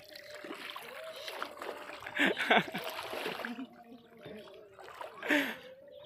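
Children splash and bathe in floodwater covering a village. Sharp water splashes burst out intermittently over a murmuring wet background, and people talk nearby throughout.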